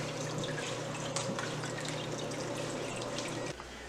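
Water flows and trickles steadily in a saltwater aquarium with sand and added rock, a continuous close wash with a low steady hum beneath, dropping off near the end.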